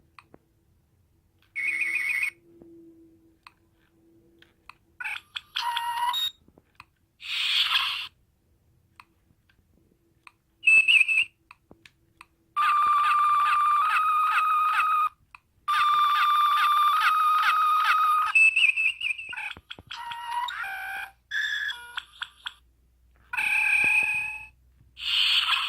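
A Star Trek original series phaser remote fires a string of electronic sound effects: short buzzing bursts, warbling chirps and longer sustained trilling tones, separated by brief silences, close and clear with no talk.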